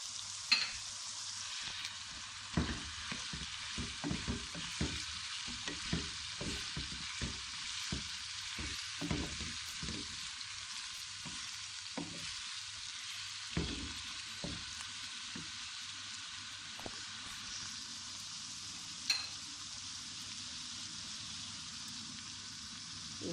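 Meat and tomatoes frying together in a pan for Lahori masala gosht, a steady close sizzle with repeated scraping and clatter of stirring throughout.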